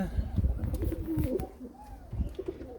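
Pigeons coo in a loft, low throaty coos repeating in short bursts close by, mixed with shuffling and faint background noise; no words spoken.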